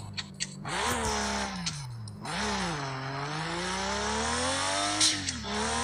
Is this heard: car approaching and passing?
yes